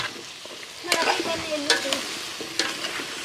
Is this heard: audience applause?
no